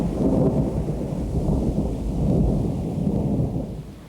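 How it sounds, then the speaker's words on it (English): Heavy rainfall on the Fiordland coast at Martin's Bay, a dense, steady roar of rain with low rumbling, continuous and fairly loud, no voices. "The first heavy rainfall occurs as the warm, moist air lifts above the coast."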